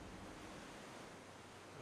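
Swimming through water in the online role-playing game Project Gorgon: a steady, close wash of water noise, like surf or churning, running unbroken with no voices.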